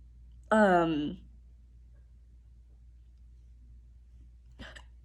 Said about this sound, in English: excuse me, hiccup